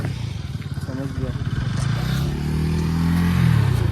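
A motorcycle engine is revved hard at a busy tourist stop in Walong, Anjaw district, with a loud, rising growl that swells toward the end while people talk over it.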